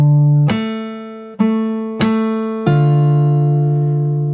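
Acoustic guitar playing a bass line with a slapped note struck together, four plucked and slapped attacks ringing out with sustained harmonic tones, clear and close with no talking.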